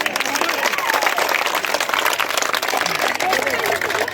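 An audience at the inauguration of a hall in Qureshi Mohalla, Daulatabad claps loudly and continuously, a dense, even round of applause heard close and filling the clip.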